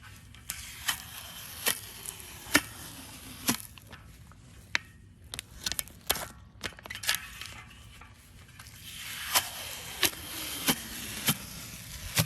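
Repeated sharp ripping and peeling crackles, close and quiet, coming in short bursts with brief pauses as old rim tape is pulled off a bicycle rim.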